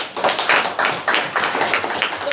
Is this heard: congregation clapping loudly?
yes